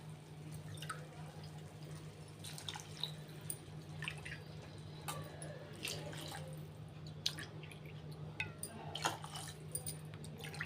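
Water poured from a glass onto rice and dal in a cooking pot, heard as quiet, scattered splashes and drips over a low, steady hum.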